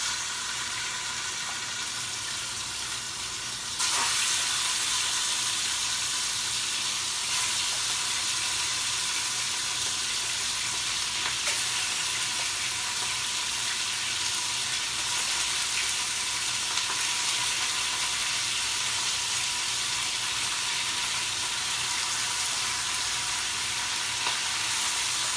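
Seasoned chicken pieces going into a hot pot and frying with a loud, steady sizzle and hiss that continues unbroken after a brief quieter start.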